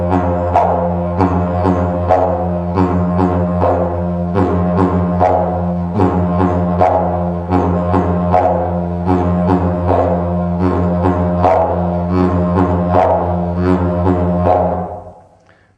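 Droning didgeridoo playing a steady do-do-ka rhythm, with a thumping gut slap on the do and a sharp high vocal ka, repeating evenly and loud for about fifteen seconds before fading.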